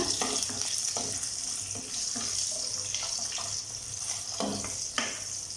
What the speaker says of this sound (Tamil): ஜீரகம், கூடவே 3 பச்சை மிளகாய், அப்புறம் 3 பல் பூண்டு இதை சேர்த்து லைட்டாக வதக்கிக்கோங்க